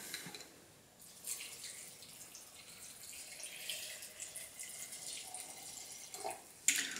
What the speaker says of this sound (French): Et je couvre avec le vinaigre.